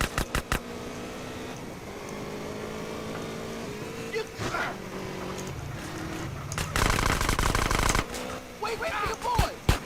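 Gunfire in GTA: San Andreas during a Big Smoke mission, a few sharp shots early on and a denser burst later, mixed with game engine and ambient noise while someone talks over it.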